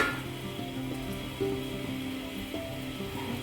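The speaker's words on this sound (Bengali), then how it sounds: "আর রসুনটা ভাজা হোক, একটুখানি চাপা দিয়ে দেবো।" Garlic frying in a pan with little oil, giving a steady, moderately loud hiss and crackle with a few faint utensil taps, heard close and with no voices.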